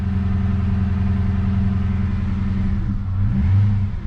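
Holden SS Commodore with a manual gearbox and a charging fault, its engine held above idle by the throttle so it won't stall: a steady, loud, close mid-pitched engine drone that dips and then swells slightly near the end.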